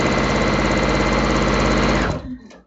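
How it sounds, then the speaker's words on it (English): A sewing machine runs a quarter-inch seam on a pre-cut quilt kit, a fast, steady mechanical whir close to the microphone that stops abruptly near the end. "I'm sewing at my 1/4 inch seam."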